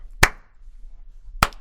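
Two single sharp hand claps, close and loud, about a second apart, made to mark the start of a recording in a quiet room.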